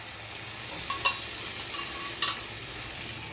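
Chicken masala with yogurt stirred in a hot pan, a steady close sizzle with a couple of brief scraping utensil strokes, no voices.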